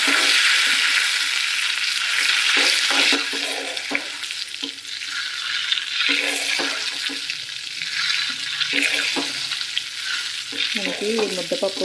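Cumin seeds frying in oil as a tempering for mudda pappu, a dense continuous hiss and sizzle with occasional stirring scrapes, close and loud throughout.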